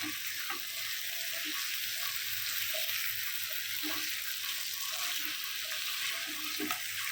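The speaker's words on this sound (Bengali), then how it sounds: "ভেজে রাখা মাছগুলো মশলার সাথে আবার একটু উল্টে পাল্টে কষিয়ে নেব" Koi fish fried earlier being turned and stir-fried with spices in a pan, giving a steady close sizzle with occasional soft scraping knocks of a spatula, no voices.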